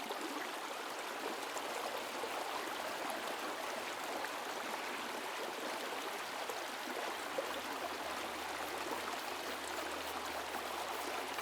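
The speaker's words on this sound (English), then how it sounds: "Let me clean my brush a little better." A paintbrush is swished and rinsed in a water jar while painting, giving a soft, continuous watery wash that stays even and fairly faint for the whole stretch, with no talking.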